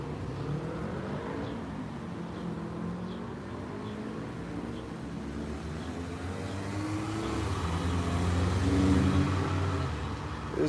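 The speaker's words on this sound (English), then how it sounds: "There's a black car coming out back there." A car drives past on a city street, a steady low rumble of traffic that swells gradually toward the end, with no one talking nearby.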